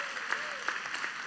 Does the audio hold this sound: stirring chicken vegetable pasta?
no